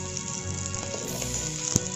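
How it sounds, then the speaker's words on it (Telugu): Mustard seeds and lentils frying in hot oil for a coconut chutney tempering, a steady close sizzle with light crackling and one sharp pop near the end. "చూస్తున్నారుగా ఆవాలు చిట్పట్టమనుకుంటూ మనకైతే పోపు ఫ్రై అయిపోయింది"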